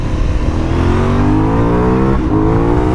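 A 2018 Aprilia Dorsoduro 900 motorcycle pulls from low revs, its engine note climbing steadily in pitch as it accelerates. It is loud and close, with a brief stumble near the end before it keeps rising.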